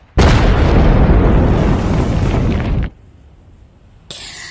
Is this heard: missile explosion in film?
yes